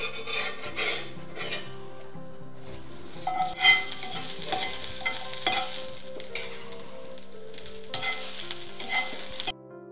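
Ingredients for amti are sautéed and stirred in a pan, with repeated scraping and clinking of a utensil over a soft sizzle, close and busy throughout with a few louder scrapes, then cutting off abruptly near the end.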